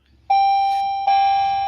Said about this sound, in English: Sorry, driveway alarm.